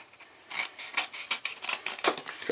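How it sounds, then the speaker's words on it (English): Scissors wedge into and cut grooves in cardboard for a campfire-in-a-can wick, a close, rapid series of scraping, crunching snips with no talk. "Take our scissors, wedge them in there, make a little groove there."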